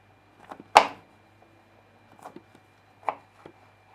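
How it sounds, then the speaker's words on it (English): Small knife chopping garlic on a cutting board, a few sharp, separate knocks at irregular intervals with quiet pauses between them. "you kind of just want to chop it across and get thin pieces like that"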